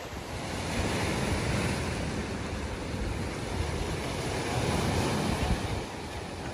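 Surf rolling onto the sand at Praia do Éden, a clean-water beach in Guarujá, São Paulo, heard as a steady, loud wash of breaking waves with wind buffeting the microphone throughout.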